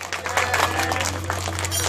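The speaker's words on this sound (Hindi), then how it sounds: "दोनों हाथ से जरा ताली बजाइएगा" An audience claps by hand at a devotional Ram Katha recital, with scattered and steady applause blending into crowd noise under a low electrical hum.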